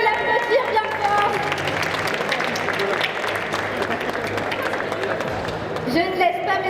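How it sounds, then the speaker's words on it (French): An audience applauding at a video game competition, a steady, dense clapping that holds at even loudness throughout, with a voice talking over it. "On peut l'applaudir bien fort."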